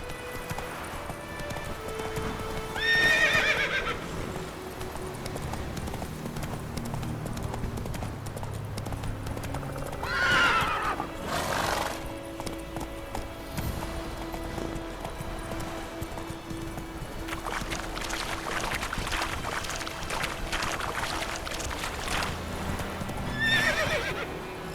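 Horse hooves clip-clop at a run in The Witcher 3 video game, with several loud whinnies and neighs rising above the steady galloping rhythm, plus a brief shout near the middle.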